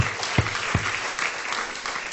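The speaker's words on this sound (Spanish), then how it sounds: "Démosle un fuerte aplauso a nuestro Dios." A church congregation claps together in a steady, sustained round of applause filling the room, with a couple of heavier thumps near the start.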